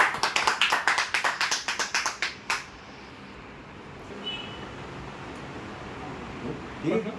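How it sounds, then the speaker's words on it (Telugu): A group of people claps hands together in quick, rhythmic applause for about two and a half seconds. The clapping then stops, leaving quiet room noise and a faint murmur. "సరే చప్పట్లు కొట్టండి అందరూ"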